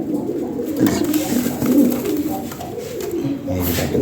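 Lahori Sirazi pigeons at a bird market coo in low, soft, rolling calls, repeated close by while someone talks over them.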